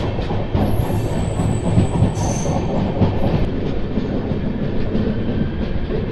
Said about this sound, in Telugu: వన్ 2604 ఆ ట్రైన్.